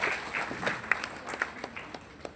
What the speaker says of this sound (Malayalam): എല്ലാവരും നല്ലൊരു കൈയടി കൊടുക്കാം ബിനു സാറിന്